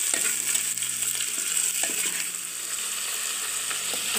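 Crumbled Tuscan and calabresa sausage fries lightly in a pan, giving a steady soft sizzle with scattered pops and spatula scrapes, close by.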